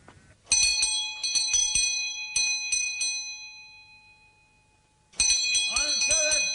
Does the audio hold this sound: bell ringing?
yes